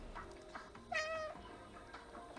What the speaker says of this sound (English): He's not fazed by our meowing.